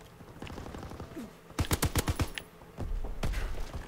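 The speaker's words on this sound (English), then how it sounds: "rapid fire on this gun would make it such a killer" An MG 81 machine gun fires in a WWII multiplayer video game on the Shipment 1944 map: a rapid burst of about seven sharp, loud shots, then one more gunshot later, with softer game noise in between.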